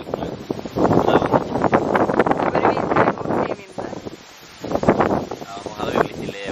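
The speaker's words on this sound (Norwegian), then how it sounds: "Ja, det er ganske mye vind, faktisk." Strong wind gusts buffet the microphone outdoors, a loud rumbling roar that swells and dips with a brief lull midway, while people talk over it.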